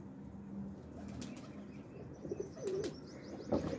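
A teddy pigeon coos softly in a loft, with a few low burbling calls and brief wing shuffles, close but faint against a quiet background hum.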